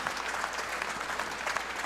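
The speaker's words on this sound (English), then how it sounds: "the crowd celebrate for Kelly Fisher" Crowd at a pool tournament final applauding champion Kelly Fisher, a continuous dense clapping that stays fairly even and moderately close.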